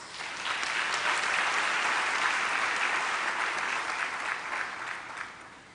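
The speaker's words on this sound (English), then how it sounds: "let's give ourselves an applause" Audience at a Mandela University autumn graduation ceremony on the Gqeberha campus applauds in a dense, sustained wash of clapping that swells and then tapers off near the end, with no talking.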